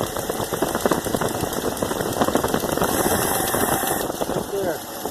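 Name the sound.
engine running with sticking throttle and choke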